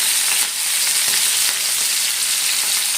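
Onions, curry leaves and green chillies fry in a pan for wheat rava upma, a loud, steady close sizzle filling the whole stretch with no voices.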